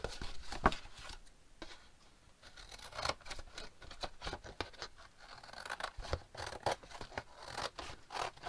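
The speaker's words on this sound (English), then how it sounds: "cutting off the flaps" Cardboard box flaps being cut off for craft storage, giving a run of dry, scratchy cutting strokes at close range with short pauses between cuts and no talking.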